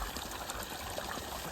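Hot spring water at a natural hot-water pool in the Konkan region runs in a steady, soft gush, a continuous close wash of water with no talking.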